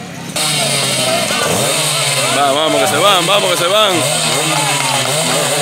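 Suzuki AX100 motorcycles race past, their two-stroke engines rising and falling in pitch as they rev hard through gears, loud and close, while someone shouts excitedly over them.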